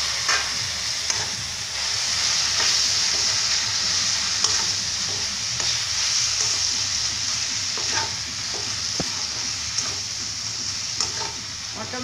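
Onions and tomatoes fry with spices in a pan for an Indian matar paneer curry, a steady loud sizzle with occasional stirring scrapes running throughout, no talking.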